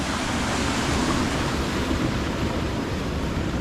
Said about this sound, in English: Even a little river like this is a raging torrent at the moment.